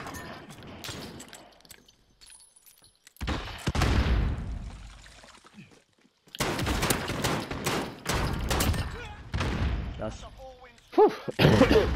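Gunfire from the video game Call of Duty: Modern Warfare, played in Gunfight mode, comes as bursts of game shots with some sharp cracks, mixed with players talking over it.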